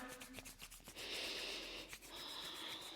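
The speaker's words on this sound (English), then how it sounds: "start to move and rub the wrists now" Hands rubbing briskly over the wrists during a fast-paced vinyasa flow warm-up before handstand practice, a steady close-up friction hiss with soft rhythmic strokes and no talking.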